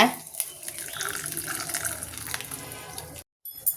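Liquid poured through a kitchen strainer while making pongal gives a steady, close splashing trickle for about three seconds, then stops abruptly, with a brief burst returning at the very end.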